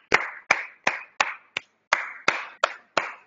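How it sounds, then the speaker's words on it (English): Nine sharp, separate hand claps in an uneven rhythm, close and crisp with short decays, cheering a student in an online physics class. "Clap for this girl."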